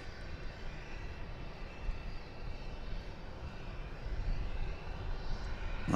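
A Spirit Airlines airliner bound for Las Vegas at DFW Airport, a faint, distant jet drone that holds steady and builds slightly toward the end.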